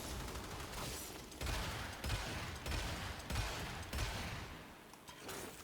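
Javlok weapon fire in the Warframe video game, aimed at corrupted heavy gunners: rhythmic bursts of shots about every half second, with dense mechanical crackle between them and no voices.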